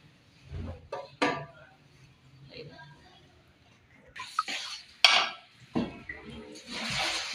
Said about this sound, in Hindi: प्रेशर कुकर को बंद करूँगी।